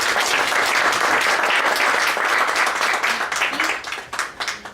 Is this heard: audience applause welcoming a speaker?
yes